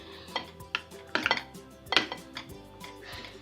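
A spoon knocks and clinks against a bowl as mayonnaise sauce is mixed: close, irregular taps and scrapes, a few of them sharper clusters, with no talking.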